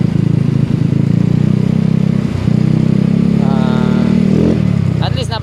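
A motorcycle engine fitted with big valves and a stock cam idles in a low, steady, close thrum, with a brief dip and a short rev near the end.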